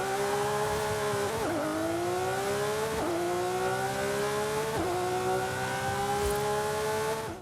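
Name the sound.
Lamborghini Countach V12 engine in video game Forza Horizon 5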